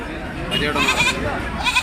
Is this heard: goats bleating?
yes